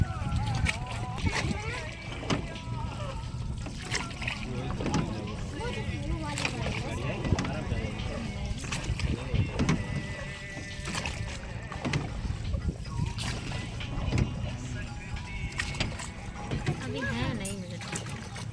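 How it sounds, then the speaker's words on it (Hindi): A wooden boat is rowed on the Ganges river at Bithoor, with soft water sloshing, oar strokes and wind noise beneath people talking almost continuously. "चला रहे हैं, नाव चला रहे हैं।"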